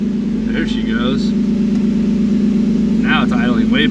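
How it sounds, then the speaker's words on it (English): Tuned drift car with a new ECU tune and M50 intake manifold idling steadily, a continuous low engine drone throughout, with brief bursts of people talking over it. "Now it's idling way better."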